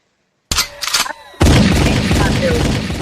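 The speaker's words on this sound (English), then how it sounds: "Give her a gunshot, Slick." A gunshot sound effect drops into a podcast conversation: a sudden loud crack with a brief echoing tail, then a second heavier blast that booms and rumbles on to the end.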